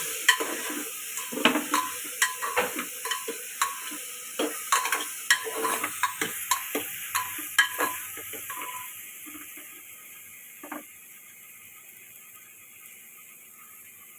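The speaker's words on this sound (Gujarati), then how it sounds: "જો રીંગણા નાખી અને આપણે થોડુંક હલાવી લેશું।" Eggplant frying in hot oil with garlic and asafoetida for a Gujarati shaak, heard as a steady sizzle under a run of close, rhythmic stirring clinks and scrapes that thin out toward the end.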